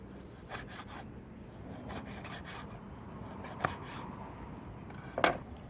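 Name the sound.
knife cutting rolled-up bacon on a board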